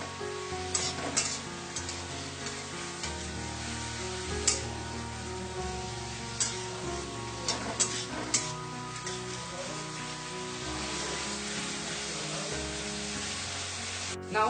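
Vegetables fry over a high flame in a pan, giving a continuous soft sizzle with occasional louder crackles and stirring scrapes, fairly quiet and with no talking.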